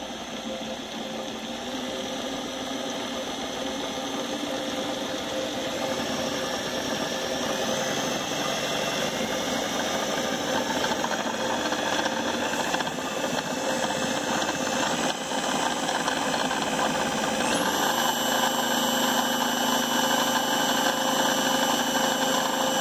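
A 400W eBay wind turbine under bench test spins up, a continuous whirring mechanical drone with steady tonal hum that rises in pitch as speed builds, with no talking.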